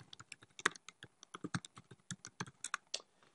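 Quick irregular keystrokes on a computer keyboard while account details are entered, a close, quiet run of dry clicks with short pauses, no talking.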